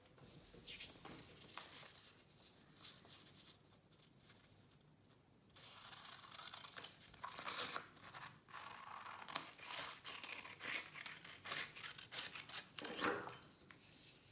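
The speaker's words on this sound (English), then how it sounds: "And then we're gonna cut off the rectangle." Scissors cutting a rectangle off folded origami paper, a continuous rasping snip and rustle of paper, close and fairly quiet, growing busier partway through with no talk.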